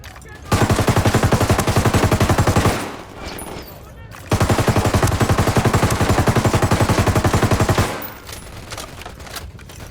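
Gunfire in the Ghost Recon Wildlands video game: two long, rapid automatic bursts of loud shots, each lasting a few seconds, separated by a short pause, with faint background talk.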